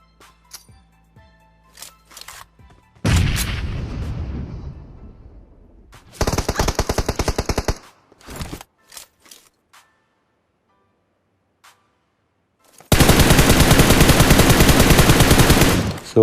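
M4 rifle fire in the mobile battle royale game PUBG Mobile cracks out as rapid automatic bursts, loud and sharp, separated by quiet gaps and scattered single shots.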